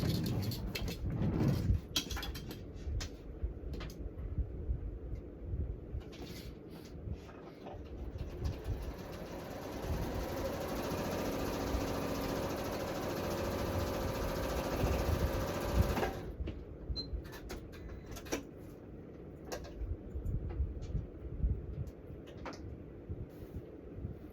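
A sewing machine stitches fabric in a steady, continuous whir lasting about ten seconds, with scattered clicks and handling noises before and after.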